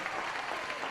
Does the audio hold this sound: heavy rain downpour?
no